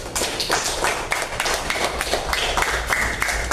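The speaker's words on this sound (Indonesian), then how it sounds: "Iya, tepuk tangan dulu." A class of students clapping hands together in a room, a dense burst of overlapping claps sustained throughout with no talk.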